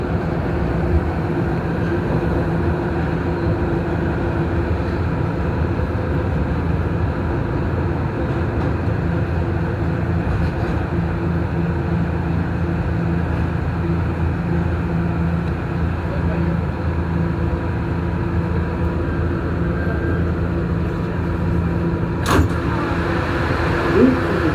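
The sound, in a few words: R211A New York subway B train running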